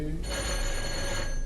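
An office telephone rings with a continuous bell tone over a low background hum, fairly close and steady for the whole short moment.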